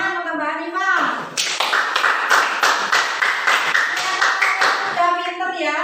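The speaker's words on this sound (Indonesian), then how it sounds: "Tepuk tangan untuk Mbak Hanifah" Students in a classroom clap together in a quick, rhythmic burst lasting several seconds, close and loud, with children's voices before and after.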